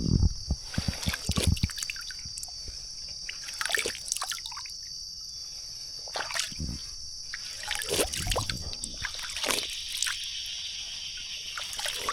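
Water trickles and drips in a deep forest, small irregular splashes and dribbles close by, with a steady high insect whine in the background and occasional faint voices.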